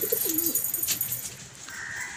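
Pigeons in a loft, including homers and a red checker, coo in soft rolling calls close by, with faint chirps and a light rustle behind them and no one talking.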